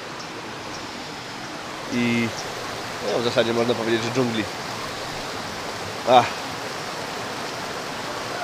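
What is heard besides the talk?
mountain stream and small waterfalls rushing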